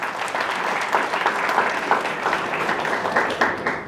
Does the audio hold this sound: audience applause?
yes